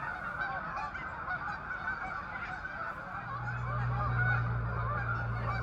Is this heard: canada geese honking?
yes